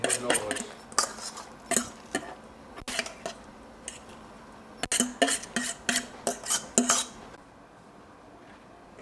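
A cauliflower, Parmesan and egg-white pizza crust mixture is scraped from a bowl onto a large pizza pan, with repeated close clinks and scrapes of a utensil against bowl and pan in uneven bursts, and a little talking.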